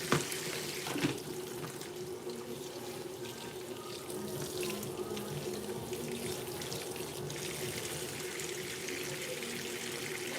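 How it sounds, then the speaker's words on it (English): Tap water runs steadily into a kitchen sink while dishes are washed, producing a continuous close splashing rush with occasional clinks and knocks at the start; no one speaks. "Oh yeah, I'm washing dishes."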